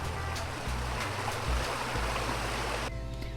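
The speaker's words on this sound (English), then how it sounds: "between these two waterfall sounds that are right here" Rushing waterfall water in a forest video game, a broad, steady hiss filling the whole stretch, close and even, with a low rumble underneath that cuts out near the end.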